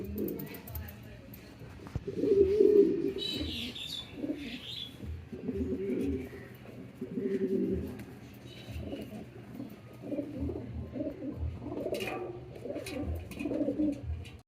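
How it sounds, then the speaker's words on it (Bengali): A King Knot pigeon coos among a flock of other pigeons, giving soft, low, repeated throaty coos in uneven bouts over a steady hum of background noise. "এই সাইডে অনেক কবুতর বসেছিল, সবগুলাকে ওঠাই দিচ্ছে সে, ডেকে ফাইজলামি শুরু করে দিয়েছে।"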